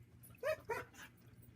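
A dog whimpers faintly in the background, two or three short, high whines in quick succession over low room noise.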